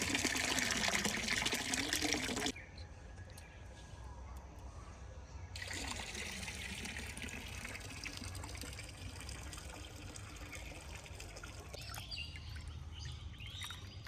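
Lentils are rubbed and washed by hand in a bowl of water, with a steady wet swishing and sloshing, a louder stretch at the start, and faint birdsong in the background.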